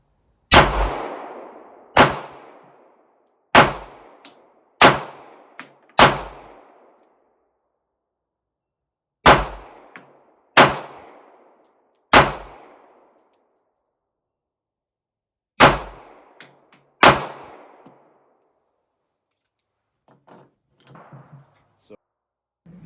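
A Bodyguard pistol fired through its first magazine at an indoor range: about a dozen sharp, loud shots in uneven pairs and singles, each ringing off the walls, followed by faint clatter.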